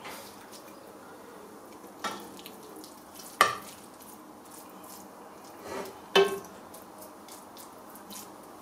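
A spoon scoops fish biryani gravy out of a cooking pot, giving a few sharp metallic clinks and scrapes spaced several seconds apart over a quiet, faintly bubbling background.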